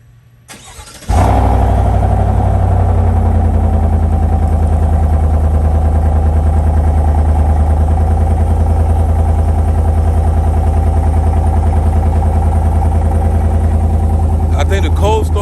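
Cold start of a 2019-2024 Chevrolet Silverado 5.3L V8 with a FlowMaster Super 10 exhaust: about a second of quiet, then the engine catches into a loud, deep, steady rumbling idle that holds close and unbroken.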